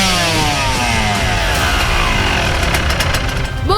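A Kawasaki KX 125 two-stroke motocross bike engine, loud and close, revving hard with a rising and falling buzzy whine that holds steady throughout.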